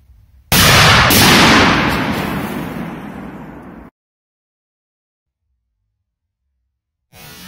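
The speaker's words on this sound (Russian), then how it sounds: "Тоже получился вот такой взрыв." A powerful firecracker blast blowing up a toy, one sharp loud bang followed by a crackling, fizzing burst that decays over about three seconds and then cuts to silence.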